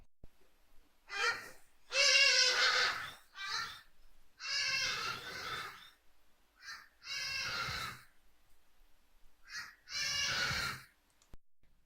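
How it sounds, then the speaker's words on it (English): An ibis calls outdoors from some distance, giving a series of harsh, raspy caws and chirps in separate bursts with quiet gaps between them, carrying an open outdoor feel. "I did get a different Ibis sound. So this one has some chirping"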